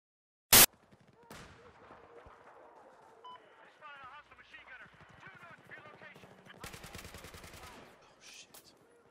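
A QBB-95-1 light machine gun fires in bursts in Battlefield 4, with a sharp opening shot and rapid rattling runs of gunfire mixed with game effects and a speaking voice.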